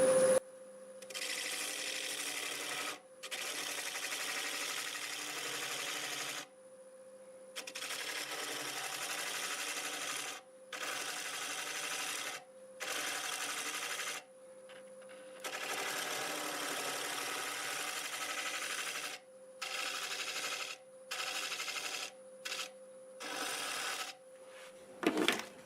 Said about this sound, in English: I'm just going to do a little shaping on the tenon, just kind of round it over into here and lower it a little bit. 1/2 inch bowl gouge.